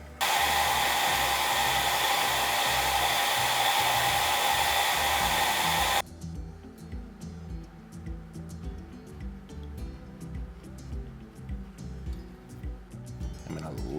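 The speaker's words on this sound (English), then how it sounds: "we'll just start kind of burnishing and cleaning up the edges with the belt grinder" Belt grinder fitted with a worn 320 grit belt burnishing wet leather edges for a sheath, a loud steady whirring hiss running for about six seconds before cutting off, followed by quieter handling noises.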